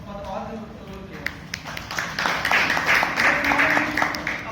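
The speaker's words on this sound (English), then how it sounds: "Let's give them a big round of applause for all the role players." Applause for the role players at a Toastmasters club meeting, a dense patter of clapping that swells over the second half after a voice speaks at the start.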